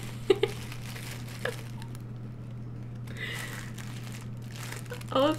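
Lipstick blotting paper from a Rouge Dior Forever Liquid Lacquer test crinkles in a few short, close bursts, with light handling noises over a low steady hum.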